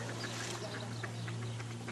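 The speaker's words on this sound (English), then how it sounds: "they got people here feeding the ducks" Ducks quack on a lake where people are feeding them, several short calls coming at irregular intervals over a steady low hum of background noise.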